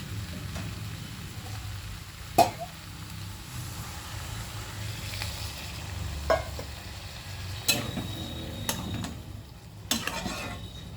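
Pointed gourd and potatoes frying in a pan sizzle steadily as a little water is added, with a few sharp clinks of a utensil against the pan.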